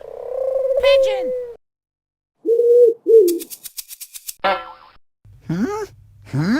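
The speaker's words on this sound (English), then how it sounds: "Pigeon!" Pigeon cooing in a short series of soft, low hums, set among cartoonish sound effects including a springy boing and other brief bird-like calls, all close and clear.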